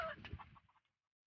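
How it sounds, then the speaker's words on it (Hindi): A rooster on a small farm lets out a short, close cluck and crowing burst that tapers off quickly into silence, faint overall. "ये इसका नाम, ये मुर्गा है"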